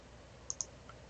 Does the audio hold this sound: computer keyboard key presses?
yes